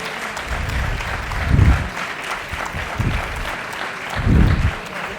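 An audience claps during a municipal election debate in a hall in Berga, a continuous loud patter with low thumping swells near the middle and end.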